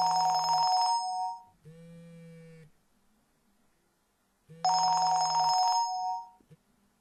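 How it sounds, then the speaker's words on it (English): Telephone ringing for an incoming call from an anonymous caller, two long bursts of electronic bell ringing separated by a pause, clear and close, with no voices. "A telephone call received on the 13th of June from an anonymous caller"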